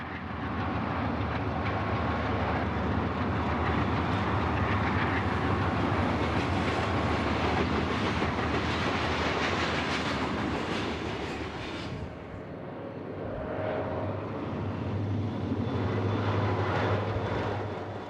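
A GE U-28C diesel locomotive leads trailing EMD units at Barstow on the Union Pacific, and their engines give a loud, steady roar that dips briefly before building again.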